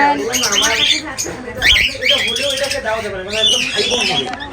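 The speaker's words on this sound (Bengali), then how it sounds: "হ্যাঁ ওটা লাভ বার্ড, লাভ বার্ড।" Lovebirds chirp and squawk in sharp, rapid bursts nearby while people talk over the calls.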